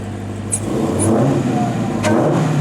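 A 2020 Dodge Challenger SRT Hellcat Widebody's exhaust rumbles loudly and close, with a deep steady growl that swells in brief throttle blips and a few sharp high pops, and no voices.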